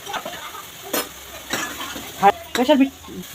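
Tomato is stirred into frying onion masala, with soft scraping stir strokes and light sizzling in a pan, plus a few brief clinks and faint voice-like sounds.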